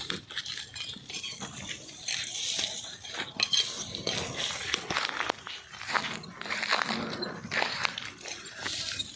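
In a village kitchen, a woman cuts with a knife: irregular chopping knocks and metallic clatter of utensils, close, with scraping and background shuffling.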